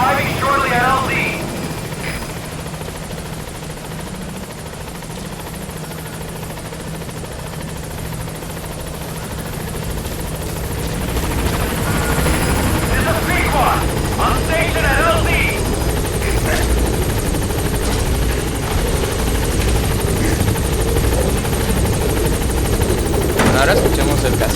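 Helicopter rotor drone from the Metal Gear Solid V video game as the aircraft arrives at the landing zone, a steady loud thrum growing stronger halfway through, with game sound effects and voices layered over it.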